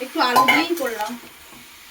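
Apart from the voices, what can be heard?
stir-frying potato, carrot and cabbage in a pan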